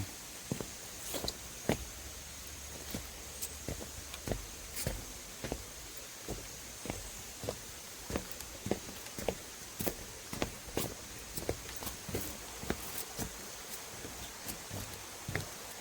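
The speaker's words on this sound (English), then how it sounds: "If my feet sound loud, my footsteps sound loud" Footsteps on a boardwalk in Cascades Park, Bloomington, Indiana, fall in a steady, regular rhythm of crisp, close thuds for the whole stretch, with no voices.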